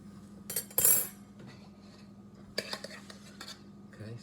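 Metal utensils clinking and scraping against a cooking pot being cleaned with boiling water, a few sharp clanks and stirring scrapes in bursts over a faint steady hum.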